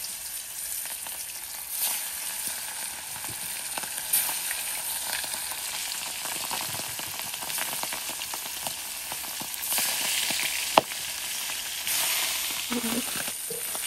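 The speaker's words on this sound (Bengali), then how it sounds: "মাছগুলো ভাজা হয়ে গেছে।" Fish fry in hot oil with a continuous close hiss and crackle. Scattered sharp pops and faint kitchen clatter break through now and then.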